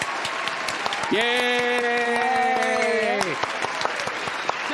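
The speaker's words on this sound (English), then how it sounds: "Can we get claps?" A small group claps in a rapid, scattered burst during a podcast recording, with one voice cheering over the claps for a couple of seconds.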